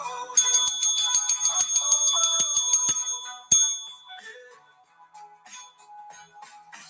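A bell rung for a beer sounds as a rapid run of bright, ringing strikes for about three seconds, then one more sharp clang that fades into faint, scattered tinkles.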